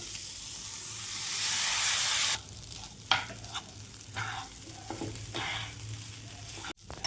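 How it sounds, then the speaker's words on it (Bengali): Rice being fried in hot butter hisses loudly at first, then settles into softer sizzling broken by repeated scraping stirs of a utensil in the pan, with no voices. "এবার এখানে আমার বাটারটা গরম হয়ে গেছে আমি চালটা ভেজে নেব"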